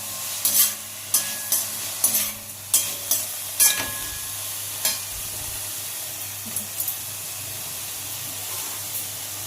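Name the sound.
stirring and sautéing masala with salt in pan for crab gravy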